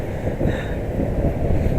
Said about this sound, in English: this place is so windy